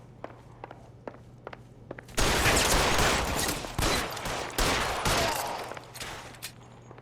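Rapid gunfire in the video game L.A. Noire: after a few soft footstep-like taps, a loud, sustained burst of shots erupts and keeps up with fluctuating intensity for several seconds before tapering back to quiet.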